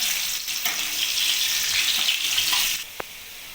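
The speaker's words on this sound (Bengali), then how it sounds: "এবার আমি আলুগুলোকে ভালো করে উল্টে পাল্টে লাল করে ভেজে নেব।" Potatoes frying in a wok with salt and turmeric sizzle in a bright, continuous hiss with occasional stirring scrapes, close up, before the sizzle cuts out near the end and a single sharp clink follows.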